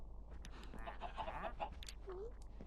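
Chicken clucking in a Skyblock video game: a short run of faint, clipped clucks near the middle, then a single rising squawk, set against a steady low background hum.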